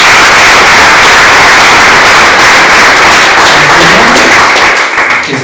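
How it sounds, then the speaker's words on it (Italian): An audience at a basketball club presentation in Brindisi breaks into loud, dense applause, a continuous wash of many hands clapping that holds steady before easing slightly at the very end. "Io vi chiedo di fare un applauso."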